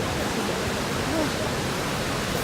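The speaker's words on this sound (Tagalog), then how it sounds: "That's the falls." Shifen waterfall rushing, a dense steady roar of falling water filling the whole short stretch, with faint voices barely present beneath it.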